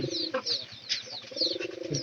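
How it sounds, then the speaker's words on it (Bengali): Local desi pigeons coo near a new pigeon house, soft repeated throaty calls close by, with faint higher chirps and some background rustling mixed in. "এই যে এগুলা কিন্তু সব দেশি নাল কবুতর"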